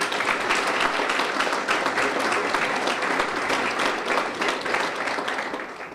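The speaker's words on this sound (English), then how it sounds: "I think that deserves a round of applause again." Steady, dense audience applause at a school driving-safety program in Sumter, South Carolina, many hands clapping continuously at an even loudness for the whole stretch with no talking over it.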